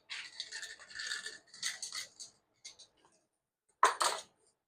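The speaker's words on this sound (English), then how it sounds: "Scrape the underneath." Mashed potato scraped from the underside of a drum sieve in a restaurant kitchen, a series of soft rasping scrapes, then a short pause and one louder scrape near the end.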